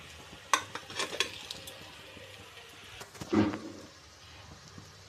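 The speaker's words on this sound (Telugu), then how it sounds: "కుక్కర్లో ఉడకపెట్టుకున్న ఈ చికెన్ కూడా వేసేసుకుందామండి" Boiled chicken pieces from a pressure cooker tipped into a pot of rice for country-chicken biryani, giving a few clattering knocks and a brief thud against the pot over a faint background hiss.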